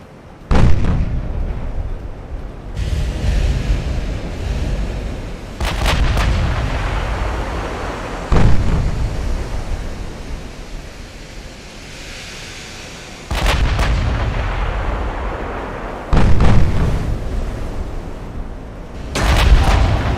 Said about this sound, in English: There we go, that's my secondary guns getting off.